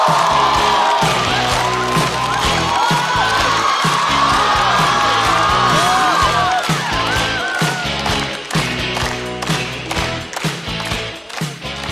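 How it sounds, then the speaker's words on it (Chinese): A live stand-up comedy audience cheers, whoops and claps for an esports commentator coming onstage, a loud, dense crowd roar with rhythmic thumps throughout, with a few shouted voices mixed in. "掌声欢迎电竞解说管泽元。"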